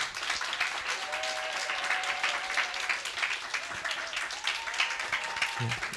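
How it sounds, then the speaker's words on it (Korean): A church youth congregation claps for a guest missionary, a steady, moderately loud patter of many hands, with voices and a faint tone heard faintly underneath. "우리 나오실 때 우리 힘찬 박수로 맞이하겠습니다"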